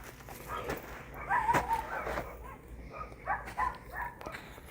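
Dogs bark somewhat distantly outdoors during a search walk, several short yips and barks in two clusters over a steady background hum.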